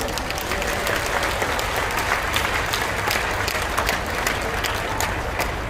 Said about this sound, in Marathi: मतं द्यायला एवढं मजबुतीनं देतात तेवढ्याच मजबुतीनं टाळ्या वाजायला पाहिजे.